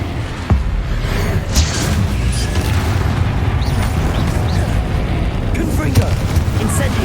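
Confringo and Incendio spell blasts in Hogwarts Legacy burst out as repeated booming, crackling impacts over a continuous rumble, with a voice calling out across the fighting.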